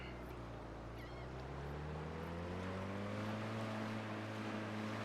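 Motorboat cruising in the video game Drug Dealer Simulator 2: a steady, quiet engine drone with a low hum that slowly rises in pitch, accompanied by faint water wash and a few soft chirps.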